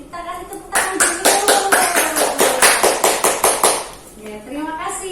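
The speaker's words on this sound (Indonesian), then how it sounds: "Nah, kita kasih tepuk tangan dulu." A small group claps hands together during an Indonesian hygiene lesson, about a dozen sharp, roughly synchronized claps. Voices speak briefly before and after.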